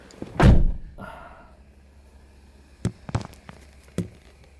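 A Toyota RAV4 car door shuts with one loud, solid thunk close by, followed a few seconds later by several quieter clicks and knocks from the door area.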